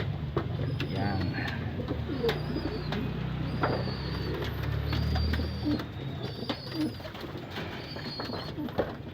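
Pigeons cooing in a new loft, repeated low throaty coos with scattered chirps and flutters close by, under occasional brief human talk.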